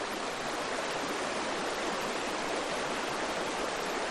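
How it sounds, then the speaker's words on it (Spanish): Canal water meeting the Pisuerga river at the San Andrés dam near Herrera de Pisuerga, a loud, constant rushing roar of falling water, with nothing else heard. "En la presa de San Andrés, muy cerca de Herrera de Pisuerga, se cruzan las aguas del canal con las del río Pisuerga."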